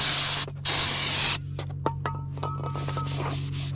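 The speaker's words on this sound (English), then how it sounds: "You need to use brake clean to get that packaging oil off." Brake cleaner is sprayed onto a new front brake rotor of a 2014–2019 Toyota Corolla in two strong close hissing bursts, followed by quiet clicks and drips as the spray stops.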